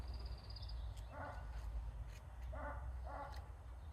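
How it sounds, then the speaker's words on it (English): A neighbor's dog barks a few times at a distance before dawn, short muffled woofs spaced irregularly over steady outdoor background noise, with a faint bird call early on. "There's the neighbor dog that's barking"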